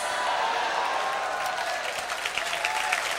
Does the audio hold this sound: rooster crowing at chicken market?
no